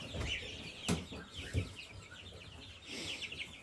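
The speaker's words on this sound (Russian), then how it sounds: "Цыплятки едят траву. Да, что-то гребутся" Chicks cluck and chirp softly while scratching and pecking at grass outdoors, with a few sharp scratching thumps among the steady, close clucking and no talking.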